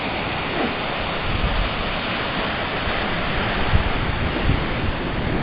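Ocean surf breaking along the coast on a hike to Mokio: a steady, loud, broadband roar of waves, continuous and close with no talking.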